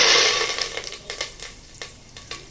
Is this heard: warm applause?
no